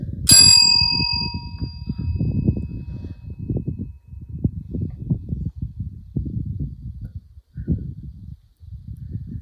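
A single bright ding of a bell at the start inside the Donner railroad tunnels in California, ringing out and fading over a few seconds, followed by low rumbling noises and shuffling.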